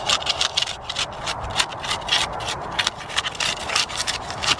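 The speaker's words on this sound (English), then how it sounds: "rub some soil down" Soil and sand being rubbed by hand into the roots of hardwood cuttings, heard as a close, continuous gritty scraping and rustling with repeated rough strokes, no talk.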